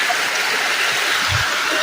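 Stream water at Zer village runs steadily nearby as a dense, continuous rushing hiss, with a brief low murmur partway through.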